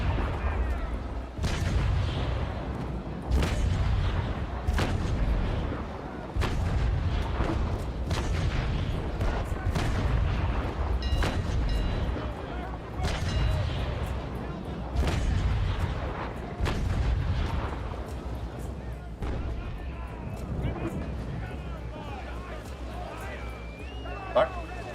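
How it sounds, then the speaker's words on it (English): Repeated heavy naval cannon booms from a sailing-ship battle in the game Naval Action, loud shots recurring every few seconds over a rumbling, dense low background, with someone talking through the action. "Listen to that gunshot."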